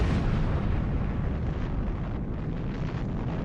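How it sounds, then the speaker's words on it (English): MOAB (Massive Ordnance Airburst), the huge aluminum-skinned United States test bomb, gives a sustained, loud, dense roar of blast rumble and debris noise that fills the whole span without letting up. "the United States tested a new superweapon"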